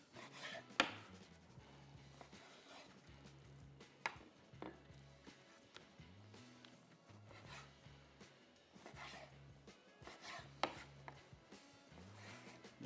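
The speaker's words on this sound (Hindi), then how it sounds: "फिंगर फिश पहले काट लेते हैं" A knife chops fish into finger-sized pieces on a wooden board, a steady series of close, crisp cuts and scraping strokes with brief pauses.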